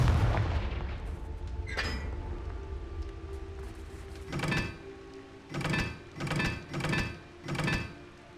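Confringo fire-blast spell in Hogwarts Legacy, a series of five rhythmic whooshing bursts at roughly one-second intervals near the end, following an earlier sharp crack over a low rumbling background.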